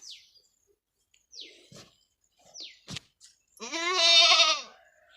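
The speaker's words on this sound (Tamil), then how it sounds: "இந்த ஆடு இன்றைக்கி குட்டி போட்டுரும்" A pregnant first-time goat lets out one loud, wavering bleat close by near the end, after a few faint, brief chirps and soft scattered noises in an otherwise quiet setting.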